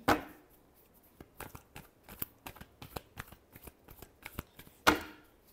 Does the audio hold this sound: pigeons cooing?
no